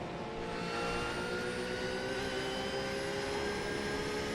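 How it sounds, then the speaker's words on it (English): GT3 race car engine under throttle at Road America, racing beneath the Speedwell bridge; a steady, continuous engine drone with a high whine holds level throughout, with no talk. "Listen to the accelerator throttle control."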